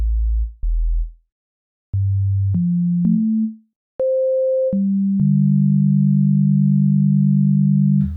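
An FM synthesizer patch built in Ableton Operator plays a sequence of pure, clean tones: low notes that start and stop, then a stepped rise in pitch, a brief higher note, and a long sustained mid tone.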